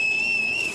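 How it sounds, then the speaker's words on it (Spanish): A mysterious hunter blows a single whistle into the air: one steady, sustained high-pitched tone, clear and unaccompanied. "simplemente suelta un silbido al aire"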